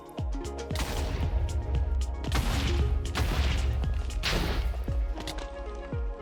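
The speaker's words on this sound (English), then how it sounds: "Pretty much wherever you're looking will direct the rocket and explosion in that direction" Loud, dense bursts of rocket-jump explosions in Minecraft, with repeated sharp blasts and crashing booms packed closely over several seconds and no talking.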